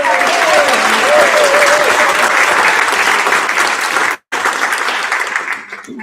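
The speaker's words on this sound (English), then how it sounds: "So a big round of applause for Brittany." Enthusiastic audience applause at a festival, loud continuous clapping with some cheering and a voice over it, briefly cutting out before tapering off.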